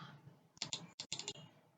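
Quiet typing on a computer keyboard, a quick burst of about six crisp key clicks in a row after a faint lead-in, close and alone.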